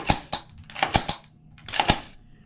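A brand-new Stag Arms AR-15 rifle having its action cycled by hand, a series of crisp metallic clacks and snaps in quick pairs, close and isolated with no talk.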